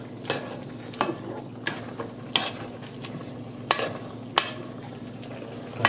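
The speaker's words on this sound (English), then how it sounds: "we're gonna mash it with a potato masher like this, see? Whilst it's still boiling." A potato masher pounds through bubbling roast chicken gravy in a pan, giving sharp wet thumps roughly every half second to second over a constant low simmering hiss.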